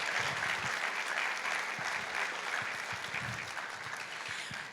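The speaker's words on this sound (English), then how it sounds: "I just want to have another round of applause for our woodwind quintet" An audience applauds a student-led woodwind quintet at a high school spring orchestra concert, a steady, fairly faint wash of clapping that carries on evenly throughout before thinning slightly at the end.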